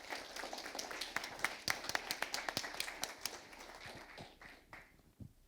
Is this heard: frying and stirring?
no